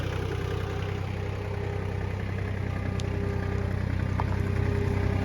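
A Japanese tractor engine runs steady and loaded while driving with a heavy pile of gravel, limestone and brick. It gives a continuous close diesel drone with a low, even rhythm.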